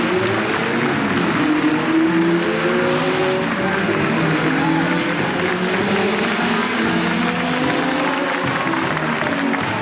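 A race car engine, Alain Prost's car in a Formula 1 race with Ayrton Senna, screams loudly and continuously, its pitch sweeping up and down. A dense roar of crowd noise fills the background.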